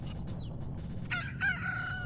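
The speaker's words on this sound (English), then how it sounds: "Look at my chickens!" Chickens and roosters in the video game Majora's Mask give a few short clucks and calls, then a clear crowing rooster near the end over steady low background music, with no talk.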